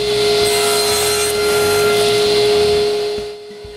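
A saw rips through birch wood being milled for a dresser's web frame, a loud, continuous cutting drone with a sharp steady tone that fades out near the end; no speech.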